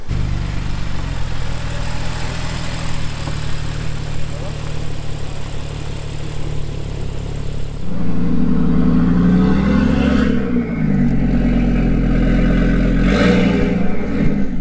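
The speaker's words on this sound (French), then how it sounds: "nouvelle voiture qui arrive, 997 Carrera 4S que tu connais" A Porsche 997 Carrera 4S arrives at a supercar rally finish, its engine rumbling close by and swelling louder midway as it rolls in, with people talking over the noise.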